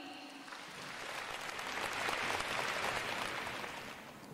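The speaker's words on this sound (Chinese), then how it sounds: "让我们掌声欢迎。" An audience applauds at a Malaysian gathering, dense clapping that swells to a peak and eases slightly, steady throughout with no voices.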